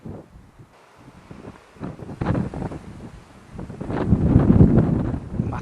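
Gusty storm wind buffets a microphone on an allotment among climbing beans, rumbling low and uneven, then building into a stronger, sustained roar over the last couple of seconds.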